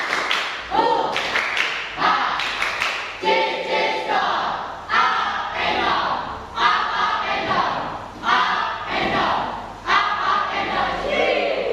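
A classroom group performs a rhythmic spirit clap, repeated bursts of patterned clapping with shouted cheers and chanted voices, loud and close, after a prayer in a Christian religious education lesson.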